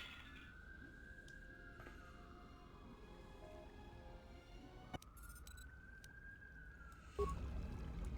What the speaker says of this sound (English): If you hear sirens, that's because there are sirens, because I live in the downtown of a major American city.